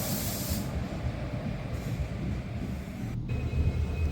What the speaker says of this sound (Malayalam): ഈ വരുന്ന ട്രെയിനാണ് കൊല്ലം